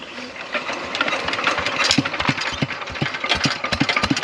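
The engine of a corn sowing machine runs close by with a rough, uneven chugging that rises and falls, punctuated by sharp mechanical knocks.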